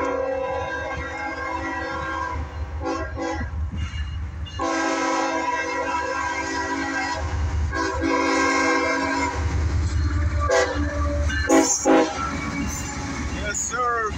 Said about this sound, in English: we got a train coming, north and south